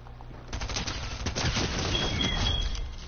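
Video game SMG fire at far range sounds as a steady, rapid rattle of shots that runs almost without a break. It is loud and slightly muffled, with bursts thickening after the first half second.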